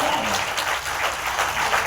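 Applause from a poetry gathering audience, a dense wash of clapping that holds steady at moderate volume for a couple of seconds.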